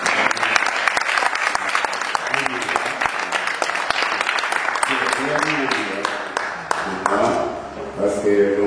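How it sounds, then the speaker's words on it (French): A French-speaking church congregation claps warmly and steadily, a dense, loud sheet of applause that holds throughout while a voice begins to come through near the end. "J'aime que vous puissiez applaudir."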